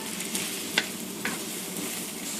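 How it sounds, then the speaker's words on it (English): Onions, white parts of green onions and garlic sautéing in sesame oil, a dense steady sizzle with a couple of brief stirring scrapes, close and continuous. "we're going to add the onions, the white part of the green onions, and the garlic. And we're going to saute these until our onions are translucent"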